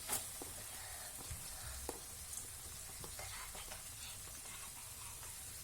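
Cabbage frying in spice paste in a pan for street-style tawa pulao, a faint, steady sizzle with soft intermittent stirring clicks and scrapes.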